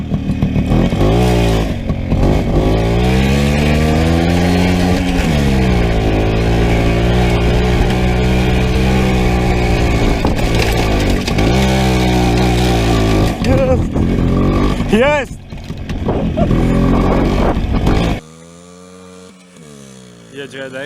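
A WSK 125 motorcycle revs hard while ploughing through deep sand, its engine rising and falling in loud strained surges under excited shouting, then cutting away near the end.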